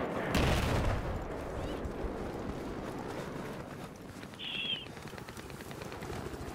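Sniper rifle fire in the shooter game Battlefield 4, a sharp loud shot near the start followed by a steady wash of battlefield noise and a faint distant whine.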